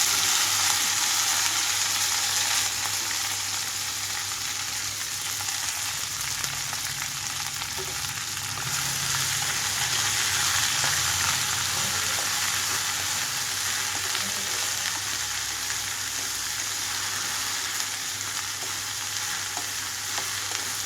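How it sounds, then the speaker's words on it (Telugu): Okra pieces frying in hot oil over a reddened tempering, without onion or garlic, make a steady, dense sizzle with occasional stirring scrapes, continuous and fairly loud throughout, no voices. "తాలింపు అంతా ఎర్రగా వేగిన తర్వాత కట్ చేసి పెట్టుకున్న బెండకాయ ముక్కలన్నీ ఇందులోకి వేస్తున్నాను"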